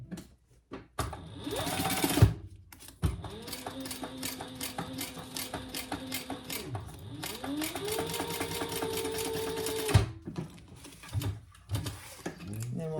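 Sewing machine stitching pieces of fabric together in several sustained runs separated by short pauses, fairly quiet and close, with a voice speaking briefly between runs.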